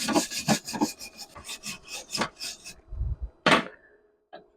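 Scraping and brushing strokes clean up a freshly laid MIG weld from a Bestarc Mig145 welder: about eight quick, close, rasping passes in a row, a short pause, then a sharper stroke and a small final scrape.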